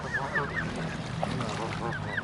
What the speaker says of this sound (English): It's not a duck, sorry, it's a goose.